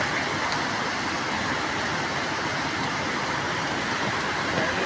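Steady heavy rain falls during a flood in the Philippines, a dense continuous hiss that fills the whole stretch with no pauses and no voices over it.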